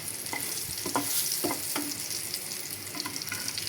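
Sliced spiny gourd (kakrol) fries in a pan with a dense, steady sizzle, punctuated by light spatula taps and stirring scrapes, close up with no talking.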